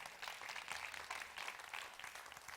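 An audience at a symposium claps continuously in a faint, distant wash of applause, with no voices standing out.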